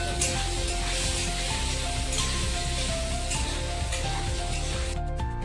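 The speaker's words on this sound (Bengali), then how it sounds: "এখন আলুগুলোকে কিছুক্ষণ ভাজতে দেব।" Potato pieces seasoned with salt and turmeric fry in hot oil in a home kitchen, giving a steady, close sizzle that runs unbroken before cutting off near the end.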